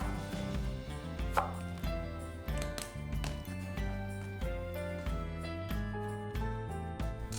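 Peeled winter bamboo shoots diced with a knife on a cutting board, a run of quick, crisp chops under steady background music.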